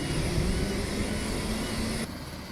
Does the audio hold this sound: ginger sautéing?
no